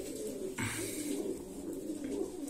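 Pigeons cooing in an aviary, several soft, rolling coos close by over a steady background of birds, with no talk.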